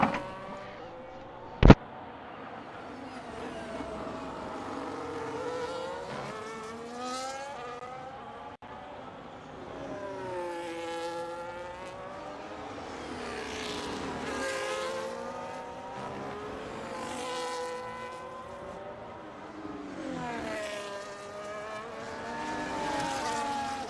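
F1 race cars, a McLaren and a Ferrari, battling in a racing video game on the Azerbaijan circuit: high-pitched engines repeatedly rising and falling through gear changes as the cars pass, with one sharp click early on.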